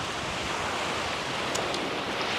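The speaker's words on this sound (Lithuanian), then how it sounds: "Atėjom į paplūdimį." Surf on an English beach, a steady broad wash of waves rolling in, fairly close and continuous with wind over the microphone, no voices.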